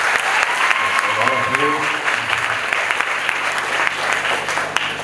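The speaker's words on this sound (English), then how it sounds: "a big clap for this" Audience at a college drama event claps for a speaker introduced to talk about the play, sustained loud applause lasting several seconds while a brief voice and a faint tone sound underneath.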